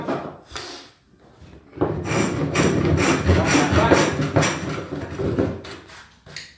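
A hand planer shaves wood filler slivers protruding from gaps between floorboards, giving a close, continuous rasping scrape that builds after a brief quieter start and runs steadily for several seconds.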